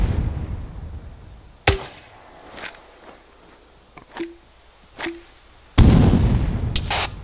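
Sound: video game explosions and gunfire pops

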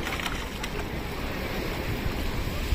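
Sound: big ocean waves at Larvotto Beach

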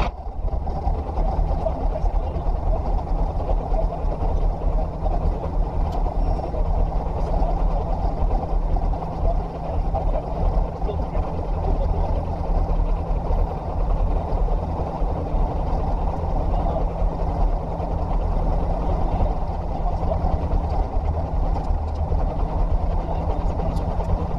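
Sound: motor glider engine running after start

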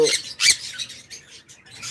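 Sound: pet birds squawking on a bird farm

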